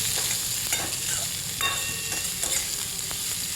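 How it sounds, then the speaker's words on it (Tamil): Chopped onions sizzle and crackle steadily in a hot pan, with a few light stirring scrapes and a faint clink, no voices. "2 பெரிய வெங்காயம் நல்லா பொடியாக அறுத்து போட்டு நல்லா அதையும் வதக்கிக்கிறோம்"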